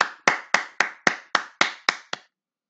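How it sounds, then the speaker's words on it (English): Nine sharp, evenly spaced hand claps in a steady rhythm ring out clearly and close in a second-grade English class, given as applause for the children, with no talking. "clap for you, aplauso para ustedes."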